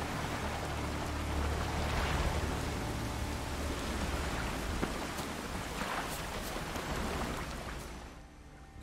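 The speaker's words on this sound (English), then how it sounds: "Looks like rain." Steady rain hisses softly and evenly throughout in the video game The Witcher 3, with faint occasional swells, then fades toward the end.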